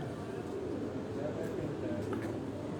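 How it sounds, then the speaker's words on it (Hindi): A pigeon coos softly on a rooftop along Chak Beli Road in Rawat, its low, rolling murmurs sounding faint and steady beneath quiet background voices. "ये कबूतर उड़ता नज़र आ रहा है आपको"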